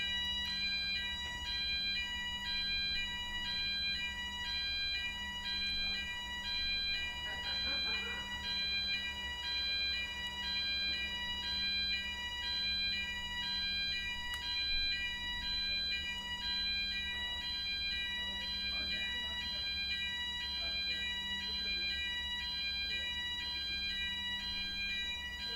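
A fire alarm sounds continuously indoors, with a steady pulsing electronic beep that repeats evenly throughout at moderate level, picked up from some distance.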